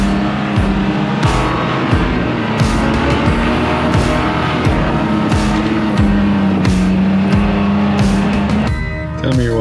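A truck engine revs hard while climbing a steep slope, with a sustained loud drone broken by repeated sharp clattering knocks and bumps, faint voices underneath.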